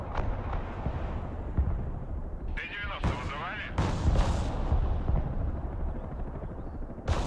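Airstrike explosions boom through a Broken Arrow match, several heavy blasts landing between about 2.5 and 4.5 seconds over a constant rumble of battle, with players talking over the top.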